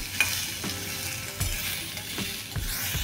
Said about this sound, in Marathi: हे आपण आता छान परतून घेणार आहोत।